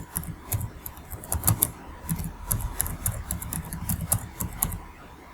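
Typing on a computer keyboard: a close run of quick, irregular clicking keystrokes with a soft low thump under each press, steady throughout the few seconds.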